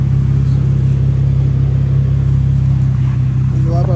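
An Infiniti G37 sedan engine fitted with a new Y pipe holds a steady, loud, low rumble at close range, a continuous droning exhaust tone with no talking over it.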